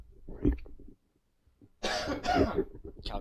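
A couple of harsh coughs up close, a quiet pause, then a burst of rough coughing and throat clearing.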